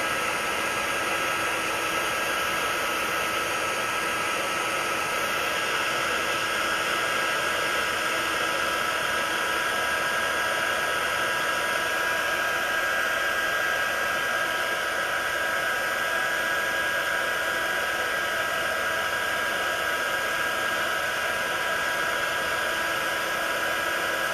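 A hair dryer blows on dyed purple hair, a loud, constant whooshing whine that holds steady with no breaks and no voices.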